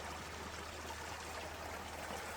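Water pours steadily into a river at a botanical garden, a continuous soft rushing and trickling heard from some distance without any voices.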